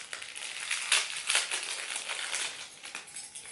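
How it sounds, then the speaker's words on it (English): Crinkly plastic packaging rustles and crackles continuously as a small clip-on keychain is unwrapped, close and moderately quiet, with brief louder crumples among the steady rustling. "Let me take it out of the packaging."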